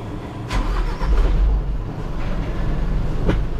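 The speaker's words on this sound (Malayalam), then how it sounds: "നമ്മള് വണ്ടി സ്റ്റാർട്ട് ചെയ്യുകയാണ്." A heavy vehicle's diesel engine starts up, a low rumbling crank that settles into a steady idle, close and fairly loud, with no talk over it.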